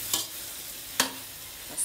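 Ground meat sizzles in a frying pan with a few sharp scraping stirs of a spoon at intervals, close and brief over a soft continuous fry.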